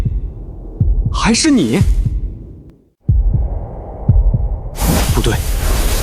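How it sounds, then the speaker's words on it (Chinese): A heartbeat sound effect in an audio drama gives deep, booming thumps in a slow, steady rhythm, with a short dramatic voice line and a brief silent gap partway through. "这心跳声如此强横，绝不是你们这种蝼蚁能发出的"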